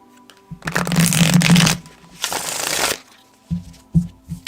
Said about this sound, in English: Shuffling the decks.